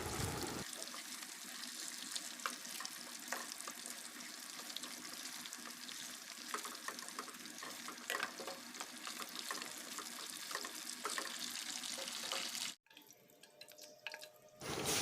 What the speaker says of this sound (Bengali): এখন আমি চিংড়ি মাছগুলো সমস্তগুলোই ভেজে নেব, তবে হালকা করেই আমি এটা ভাজবো